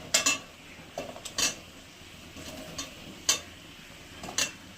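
Fried potatoes being stirred and sautéed in a pan for a paneer curry, heard as a few scattered, fairly close scrapes and clinks of a utensil against the pan over a quiet background.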